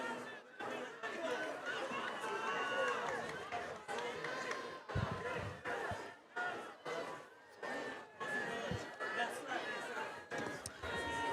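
A high school football crowd at Trabuco Hills hosting Western, with cheering and chatter rising and falling behind a close announcer's commentary.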